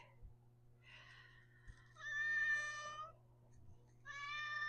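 A cat meows several times, drawn-out and fairly close, with pauses between calls over a faint low hum.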